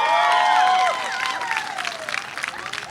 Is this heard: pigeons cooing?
no